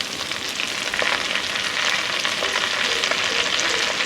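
Sushni greens dropped into a pan of fried garlic and green chilli set off a loud, steady sizzle and crackle of frying that holds evenly throughout, with no voices.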